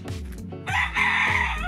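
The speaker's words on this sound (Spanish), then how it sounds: "Ah, tienen traba de gallos." A rooster crows loudly and nearby at a countryside gamecock yard, a drawn-out strained call, with other fowl sounds in the background and no talking.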